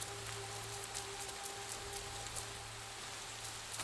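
Rain in the video game Assassin's Creed Shadows falls as a soft, constant patter of drops over a low steady hum, even throughout with no talking.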